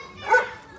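A single short bark from a small dog with a skin disease, at a rescue from neglectful owners, mid-distance and fairly brief.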